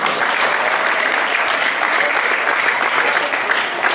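Loud, dense audience applause at a live event with a dance performance, a continuous wash of many clapping hands sustained evenly for several seconds with faint crowd voices beneath.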